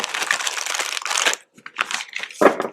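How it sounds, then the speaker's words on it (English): Tarot cards shuffled by hand in close, crisp bursts of papery riffling and crinkling, with a brief pause before a few shorter shuffles. "I already shuffled these cards"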